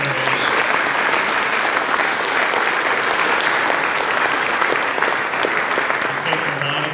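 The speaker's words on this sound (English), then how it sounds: "We give them a round of applause." A school concert audience gives loud, steady applause as students come on stage, a dense even roar of clapping sustained for about seven seconds.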